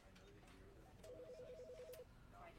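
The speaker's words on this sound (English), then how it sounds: "Oh, sounds like I'm getting a phone call." In-game phone ringing: a single warbling electronic ring tone of about one second, fairly faint over a hissy game background with no speech.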